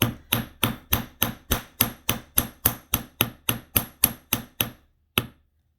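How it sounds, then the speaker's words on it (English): Sharp, evenly spaced hammer blows flatten the end of a craft wire, about fifteen quick metallic taps in a steady rhythm, then a pause and one final strike, close and alone. "When you get to the end, you want to hammer a little bit harder right on that very end."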